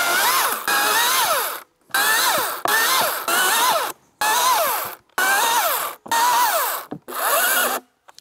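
A Husqvarna 535i XP battery chainsaw cuts through a log in a series of bursts, its high whining motor rising and falling with brief silent gaps between each cut, loud and close.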